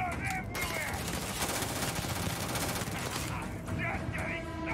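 Rapid automatic gunfire from a gun in the video game Starfield, a dense continuous burst of loud shots filling nearly the whole stretch, with brief voice sounds at the edges.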